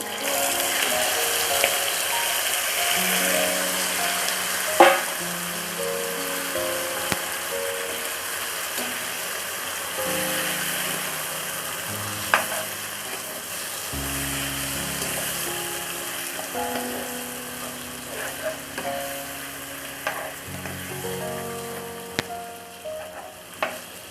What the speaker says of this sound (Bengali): তো এখানে আমি মাংসটা দিয়ে দেবো এখন তো মাংসটা দিয়ে দিচ্ছি